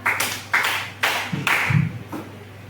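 A group of people clapping in unison in a four-beat pattern, four sharp, evenly spaced claps about half a second apart, loud and close in a room.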